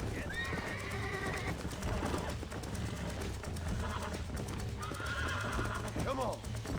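A horse in the Red Dead Redemption video game whinnies twice with rising, wavering cries, over a steady bed of hoofbeats and game noise while someone talks throughout.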